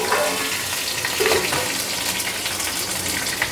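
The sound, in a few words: green chilies frying in ghee tempering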